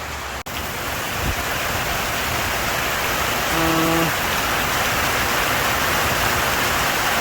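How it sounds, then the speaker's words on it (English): Steady heavy rain falls in Jamaica, a dense unbroken hiss of drops on surfaces that holds constant throughout, with a brief low knock near the start and a faint electronic beep midway. "Rain a fall."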